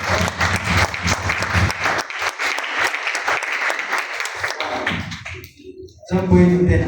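An audience at a company award event bursts into sustained applause, dense clapping that carries on for several seconds before fading, then a voice speaks over the tail.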